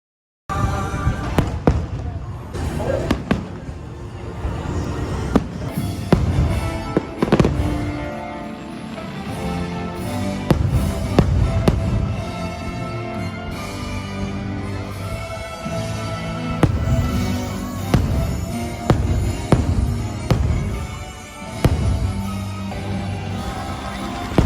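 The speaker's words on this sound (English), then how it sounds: "this is one of the best fireworks you'll ever see." Fireworks show at Disney World: a long run of booming bursts and crackling pops, near and loud, with crowd voices and chatter running underneath.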